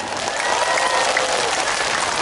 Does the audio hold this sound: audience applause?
yes